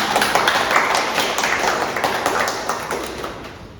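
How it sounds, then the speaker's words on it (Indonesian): An audience claps after a round of a student rhetoric debate, a close, fairly loud burst of many hands that slowly tapers off over a few seconds. "Mari kita berikan tepuk tangan yang meriah"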